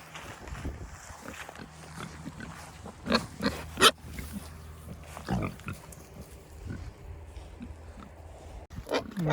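Pigs wallowing on a rush-covered farm field grunt and snuffle close by, with irregular short grunts and snorts over a quiet outdoor background.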